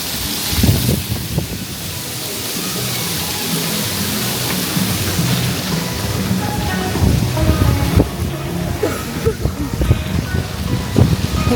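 Steady, loud wash of surf at Lookout Cay, Lighthouse Point, a broad rushing roar with occasional splashes and knocks, and voices faintly mixed in.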